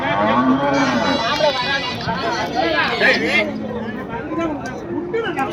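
Cattle at a farm, about ten to fifteen cows kept near a house, lowing and moving amid a steady murmur of people talking nearby.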